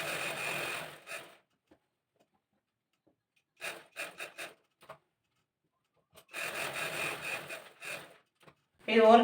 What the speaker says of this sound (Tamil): இப்போ நான் வந்து கழுத்தை மட்டும் ப்ரெஸ் பண்ணி அடிக்கிறேன்.